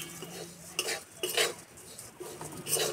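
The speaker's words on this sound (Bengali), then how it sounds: "এইভাবে একটু সময় নিয়ে ভাজলে চিড়েগুলো খুব সুন্দর ভাজা হবে।" Flattened rice (chira) being stirred as it fries slowly in a pan: repeated metal scrapes and clinks of a spoon against the pan in an uneven rhythm over a faint sizzle, close and without speech.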